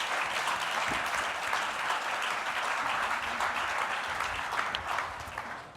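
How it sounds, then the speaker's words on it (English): A conference audience applauds the panelists at a business forum, a dense, steady clapping that fills the room for several seconds before thinning slightly at the end. "big round of applause for all of our panelists"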